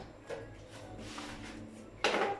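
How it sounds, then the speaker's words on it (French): A chair being turned around during an exercise session, producing soft wooden scrapes and knocks followed by a louder clunk near the end as it is set down, with no talking. "on tourne la chaise"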